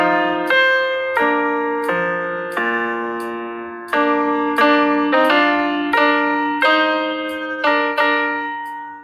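Sustained choir-like chords from GarageBand choral rehearsal parts shift in a steady rhythm, each change marked by a soft attack, with a regular click track beat keeping time underneath.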